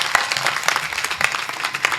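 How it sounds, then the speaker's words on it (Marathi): An audience at a village kirtan gathering claps together in a dense, continuous burst of applause, close and steady throughout. "कैलास दादासाठी आणि सदानंद दादासाठी आणि आमच्या दत्ता महाराजसाठी सर्वांनी एकदा प्रेमानं टाळी वाजवा"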